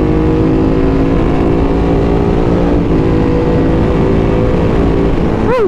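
A motorcycle engine runs loud and close with a steady, droning rev that holds throughout, and its pitch sweeps upward at the very end.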